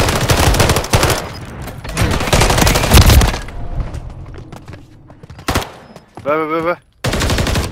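Rapid automatic gunfire in Modern Warfare 3 multiplayer, loud close bursts of a machine gun broken by short pauses, followed by a brief warbling game sound and more shots, while players talk over it.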